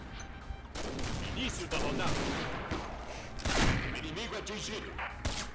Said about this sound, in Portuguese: Olha o tiro que eu tô errando.